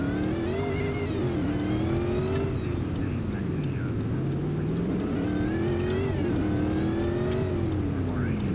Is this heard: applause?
no